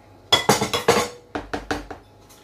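Ladle scraping and knocking against a bowl while carrot cake ingredients are mixed, a quick run of close clinks and clatters, a short pause, then several more, with no talking.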